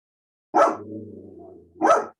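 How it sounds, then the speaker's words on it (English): Two sharp dog barks bracket a low, sustained growl, all close and fairly loud against silence. "Who's barking?"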